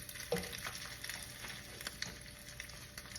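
Bacon fries in a pan at home for breakfast, a steady faint sizzle and crackle with a few soft pops, no talking.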